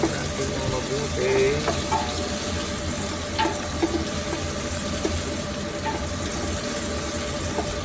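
Sautéed onion and tomato hiss steadily in a pan while a spoon stirs through them, with occasional light scrapes and taps, close and moderately loud, against a constant background hum.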